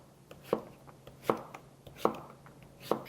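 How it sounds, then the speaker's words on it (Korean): Zucchini being chopped into half-moon slices on a board, four distinct knife thuds at an even, unhurried pace with lighter slicing taps between, close and clear with no talking. "우선 호박은요, 반달 썰기를 해주시면 돼요"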